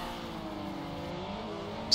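Upgraded car engine in a car-wrecking racing video game, revving with a steady buzzy drone throughout, fairly loud and continuous, with a brief sharper burst at the very end.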